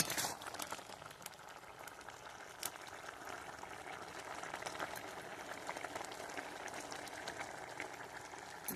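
A home-style vegetarian green banana curry with mustard bubbles steadily in a pot, a quiet continuous simmer of small pops and gurgles heard close up with no talking.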